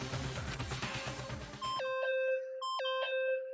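Electronic beeping in the Danganronpa video game: after a stretch of loud, busy game music, two separate clear tonal beep sequences ring out with descending chime-like pitches, close and distinct against silence.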